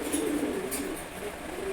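Low, steady cooing from pigeons in a loft runs unbroken through a noisy, close background with no talk.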